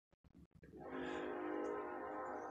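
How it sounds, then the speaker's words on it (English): Faint clicks, then a distant train rumbles steadily with a horn-like tone drifting over it, low and far away. "That's a train"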